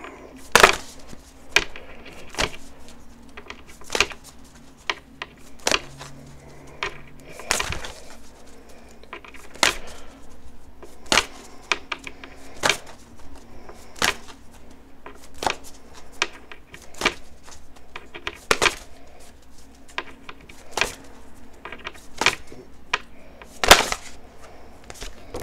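Tarot cards are shuffled and pulled for a reading, a run of sharp, irregular papery snaps and riffles close by, scattered across a quiet background with no talking.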